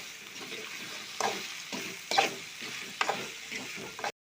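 Okra fries with spice powder in a pan, sizzling steadily while a spatula scrapes and stirs in several distinct strokes, close up and without speech.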